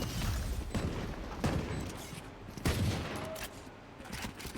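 Gunfire rings out during a competitive Valorant esports match, with dense, loud shots and booms following each other throughout at a steady pace and no talking over them.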